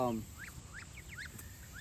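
Muscovy ducks giving soft, short chirping peeps in quick succession at a modest distance, over a low background rumble.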